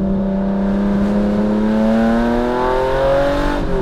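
A classic sports car engine revs steadily, its tone climbing smoothly through several seconds in a loud, close, sustained growl.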